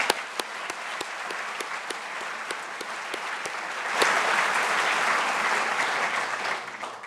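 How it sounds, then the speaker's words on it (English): The crowd at a 2019 graduation ceremony for interdisciplinary master's diplomas applauds, opening with scattered sharp claps that swell into fuller, steady clapping around the middle before easing off toward the end. "Let's give us all a round of applause."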